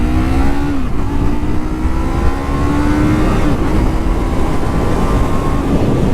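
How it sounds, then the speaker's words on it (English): A Yamaha MT-03 motorcycle with a 321cc parallel-twin engine accelerates hard, its loud, steady engine note rising in pitch through the gears, close and continuous with no talking. "Acceleration."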